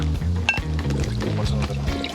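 Milk pours into a cooking pan in a brief, steady liquid stream, set against a continuous musical background.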